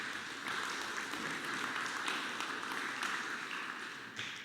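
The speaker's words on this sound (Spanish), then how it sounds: "Un fuerte aplauso para ellos, por favor." Steady, faint applause from an audience at a national interuniversity oral litigation contest final, a soft continuous patter of many hands heard from a distance.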